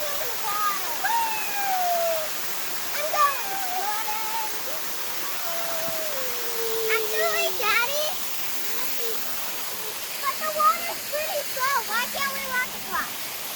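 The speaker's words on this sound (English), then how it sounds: "It is a waterfall." A small waterfall, one of several along a walking trail, pours with a steady broadband rush throughout, while a child and adults chatter and call out over the water noise.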